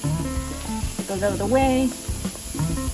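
Burger patties sear on a half-heated barbecue grill, a steady frying sizzle running beneath a person's brief speech.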